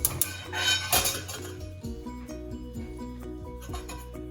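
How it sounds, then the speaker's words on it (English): A metal pot is set down on a stove with a few clanks and clinks, followed by quieter rattling and tapping. "I'm gonna take pot, put it on the stove"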